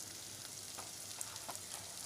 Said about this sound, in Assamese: পিঁয়াজখিনি ভাজি অকণমান